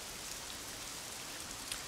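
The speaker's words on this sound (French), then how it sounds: "Et au fur et à mesure, eh bien écoutez, la pluie va s'accentuer." Rain in the Assetto Corsa racing game with the Sol weather mod falls as a steady, even hiss of drops on a surface, soft and continuous with no other sounds.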